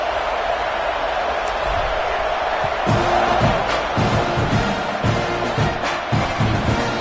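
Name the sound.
loud stadium crowd in a college football video game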